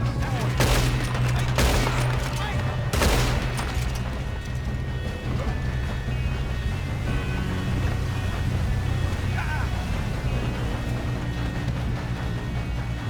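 Gunfire in Red Dead Redemption 2, several loud close shots early, then a dense rumbling barrage of shooting and clatter throughout.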